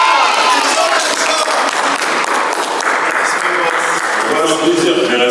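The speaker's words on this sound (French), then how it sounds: "Applaudissez-le s'il vous plaît." Loud, sustained applause from a studio audience for the winner of a dating game show, dense clapping with some cheering throughout at a steady level.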